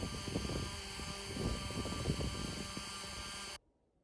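A Dremel rotary tool spinning at 15,000 RPM with a polishing brush on a penny gives a steady, close mechanical whine and hum that cuts off abruptly near the end.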